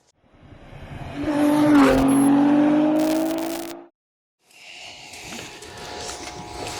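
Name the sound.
Porsche 944 S2 engine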